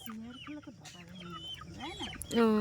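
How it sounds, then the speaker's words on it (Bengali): Chickens cluck in a run of rising and falling calls close by as they go into a mud-built coop, ending with a sharper, louder squawk. "দেখো মুরগি কিভাবে ঘরের মধ্যে ঢুকে দিচ্ছে"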